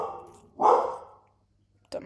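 Indoors, a dog lets out one loud, close bark, with a quieter bark or yip starting just before the end.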